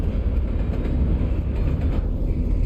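A train rolls over tracks in Alan Wake, a loud, close, steady rumbling clatter with soft rhythmic clicks running for a few seconds.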